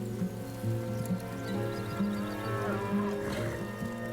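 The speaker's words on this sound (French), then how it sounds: "Des vaches. On dirait que le troupeau est droit devant." Cattle lowing from a herd somewhere ahead, a few long, steady moos standing out over continuous low background noise, with no voices during them.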